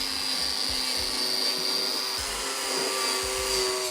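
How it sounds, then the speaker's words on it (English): Compressed air hisses steadily into the dirt-filled chassis of a GQ Patrol, a continuous broad rush with faint scattered knocks and rattles of debris underneath. "I'm gonna blow out inside the chassis because it's full of dirt."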